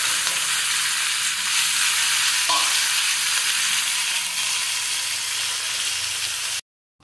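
Green chillies fry in a pan for drumstick leaves chutney, a loud steady sizzle and hiss that runs without pause before cutting off abruptly near the end.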